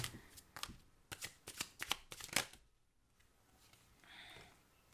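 Close, crisp card shuffling in a quick run of riffling bursts, then quiet with a faint rustle at the end.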